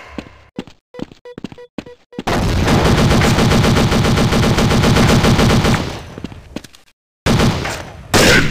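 Loud automatic gunfire from the Android shooter game Critical Strike Force: a few scattered shots, then a long sustained burst of rapid fire, a brief pause and more bursts near the end.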